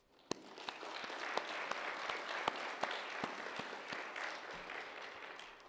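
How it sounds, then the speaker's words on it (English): An audience at a camp gathering breaks into sustained applause that swells quickly and then continues fairly evenly. It is soft and somewhat distant, with a few sharper individual claps standing out and no talk. "And so they deserve a round of applause as well."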